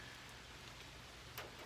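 Rain falls steadily outdoors, a faint, even hiss with a soft low rumble beneath and one brief sharper drip near the end, with no voices.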